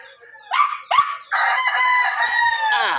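A rooster crows loudly and close by, a couple of short rising calls followed by a long sustained crow that trails off.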